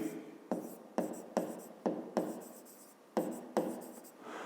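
Handwriting with a pen on paper during a 5th-grade maths exercise, heard as a close series of short scratchy strokes in quick bursts with brief pauses between, no talk over it.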